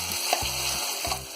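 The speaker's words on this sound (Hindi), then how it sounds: "2 से 3 मिनट हम इसे फुल फ्लेम पे अच्छी तरह से भून लेंगे।" A paste of spinach, coriander and mint fried over a full flame after cumin and green chillies, giving a steady loud sizzle broken by repeated stirring scrapes in a quick rhythm, close up.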